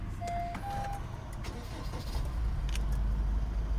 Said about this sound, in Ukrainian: Зараз заведемо автомобільчик